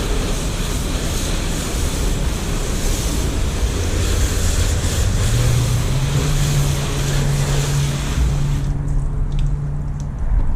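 Pressure water spray rinsing a car during a first wash, a loud continuous hiss and rush close by with a low droning hum underneath, briefly dropping near the end.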